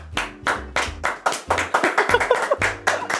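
Bursts of hand clapping, several loud claps in quick uneven rhythm across a few seconds, close and dominant, with music underneath and a voice briefly mixed in.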